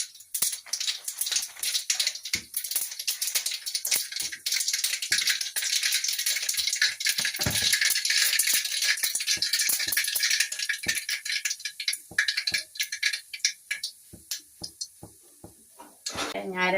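Mustard seeds splutter and pop loudly in a little hot oil in a pan, the first tempering step for a Kerala thoran. The crackling is dense and close before thinning into scattered pops, with a voice speaking over it at times.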